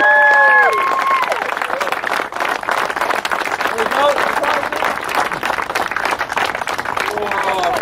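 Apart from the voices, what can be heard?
audience applause for second place at Drift Knights 2018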